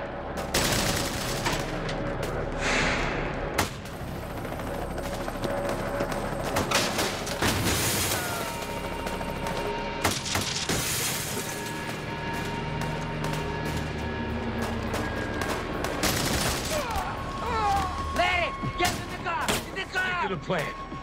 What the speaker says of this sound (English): They're still shooting at us.